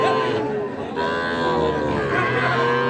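Young bulls at a cattle market low in a loud, sustained moo that holds close to the microphone, with a faint crowd murmur behind.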